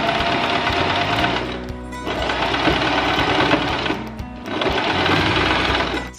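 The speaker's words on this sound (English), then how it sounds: "I'm just going to take this to the sewing machine and do a regular stitch over here just to connect everything" A sewing machine runs a regular stitch through sock fabric in three fast, loud bursts of rattling needle action separated by brief pauses, close and alone.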